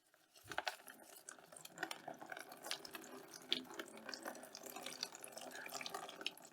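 Excess water drains out of an overwatered orchid pot as it is dumped, a faint, close trickle with scattered drips and splashes running throughout.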